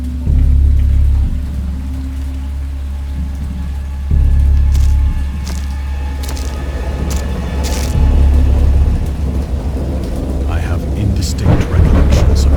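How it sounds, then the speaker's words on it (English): Thunder rumbles in a stormy scene from the horror game Dagon, deep booming swells recurring over steady rain, loud and close, with some faint voice-like sound underneath. "I heard pearls of thunder and other tones which nature utters only in her wildest moods"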